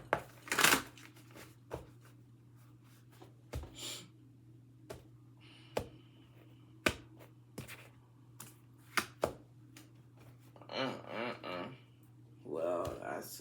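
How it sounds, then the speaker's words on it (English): Tarot cards shuffled by hand during a reading, giving a run of soft, scattered riffling clicks and taps with short flurries near the end, quiet against a low steady hum. "Last shuffle."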